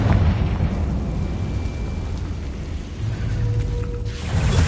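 Blasting-curse explosion in the Hogwarts Legacy video game, a loud rumbling boom with mechanical creaking and grinding over a dense low roar that swells again near the end.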